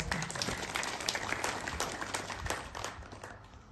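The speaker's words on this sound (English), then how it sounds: "Let's clap for our" A crowd applauds visitors from Pakistan at a public event in Uganda, steady clapping heard at a distance and fairly faint, with a little speech mixed in.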